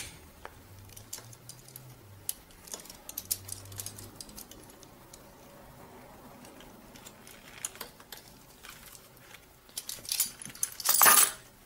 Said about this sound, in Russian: Шестигранником на 5 и ключом на 10 подтягиваем.